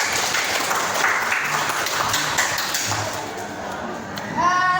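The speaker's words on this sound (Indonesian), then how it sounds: "Tepuk tangan dulu." Applause from a classroom of students fills the room, steady and fairly loud, with children's voices mixed in, a short ringing tone near the end.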